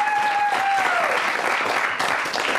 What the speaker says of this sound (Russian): даже соперник аплодирует отличному игроку